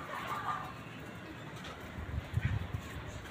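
A pigeon gives a few soft, low coos near the end, faint against a quiet outdoor background.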